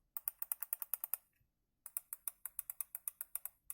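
Crisp, rapid mouse button clicks from a cheap Spacer SPMO-M20 wired USB RGB gaming mouse, close up and alone, in two quick bursts of about a dozen even clicks separated by a brief pause.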